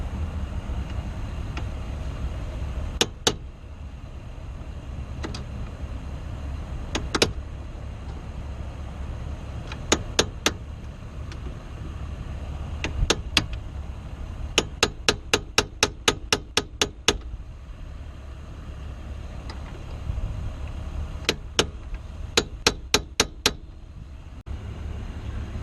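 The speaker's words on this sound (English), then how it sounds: "this cool little hammer that I got, and I'm going to try to break free those bolts" A small hammer strikes the bolts under the steering column of a 2000 Honda Civic during ignition lock cylinder replacement, sharp metallic taps coming singly and in quick clustered runs over a low steady background hum.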